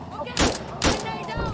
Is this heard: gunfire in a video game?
yes